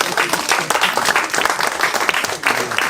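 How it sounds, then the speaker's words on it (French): Audience applause at a comedy sketch show, a dense burst of many hands clapping steadily throughout, loud and close, with a few voices mixed in. "Bravo, on peut l'applaudir."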